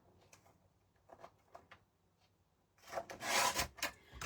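Paper being trimmed to size makes soft scraping, rubbing strokes, quiet and sparse at first, then a louder dense burst of cutting near the end.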